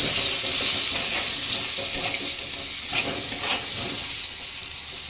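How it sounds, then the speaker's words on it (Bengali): Steady, loud sizzling of pointed gourd frying in hot oil, a continuous crackling hiss with no talking. "এবার এটাকে আমরা ভেজে নেব"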